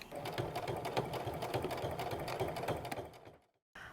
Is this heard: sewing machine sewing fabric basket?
yes